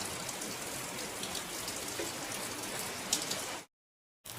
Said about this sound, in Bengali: এই যে অনেক জোরে বৃষ্টি পড়ছে,